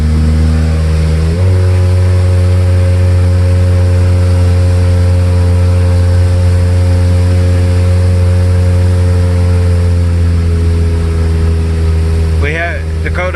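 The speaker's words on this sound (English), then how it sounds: "Test driving the Hot Rod Honda." Hot rod Honda engine on a test drive with a new aftermarket exhaust, a loud, close, deep droning hum that shifts pitch early on and then holds steady, easing slightly near the end.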